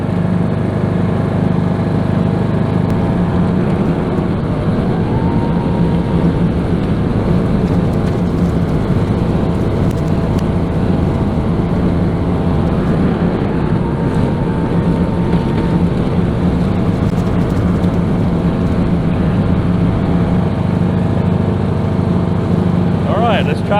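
A riding lawn mower engine runs steadily through a backyard mow, a constant droning hum close by with faint shifts in tone, while someone talks over it now and then.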